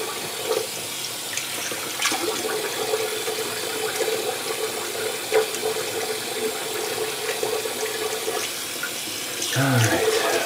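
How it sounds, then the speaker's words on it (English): A bathroom tap runs steadily into a sink for a rinse after shaving, a close, even hiss of flowing water with a few small clunks and splashes near the end. "let's do a quick rinse here."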